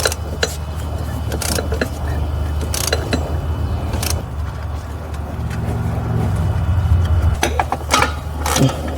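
A ratchet wrench works a torque converter bolt during engine removal on a Chevrolet Cruze, giving short metallic clicking bursts over a steady low shop hum, fairly close and moderately loud.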